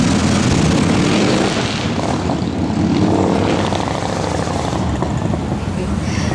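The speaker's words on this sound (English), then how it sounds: "I love motorcycles, just not when they're going by when we're trying to talk." A motorcycle roars past an outdoor public gathering in Calgary, a loud broadband engine rumble filling the whole stretch and swelling then easing slightly while voices talk underneath.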